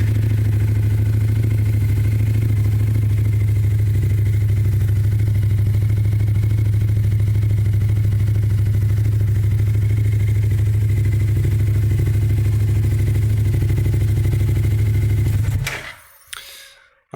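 A Yamaha R7 motorcycle fitted with a lightweight lithium race battery runs at a loud, steady idle for about fifteen seconds, with a deep constant engine drone, then shuts off abruptly into near silence.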